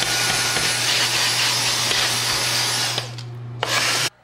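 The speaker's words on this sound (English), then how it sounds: "Then, when done, you can vacuum up the mess." A vacuum cleaner drones loudly and steadily, sucking up clippings from a Remington F5-5800 foil shaver. It cuts out briefly, surges back on and then switches off.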